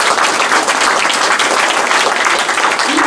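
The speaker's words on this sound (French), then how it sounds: "vous pouvez l'applaudir." Steady, dense applause from a seated audience at a French speaking event, loud and continuous from start to end with no voices over it.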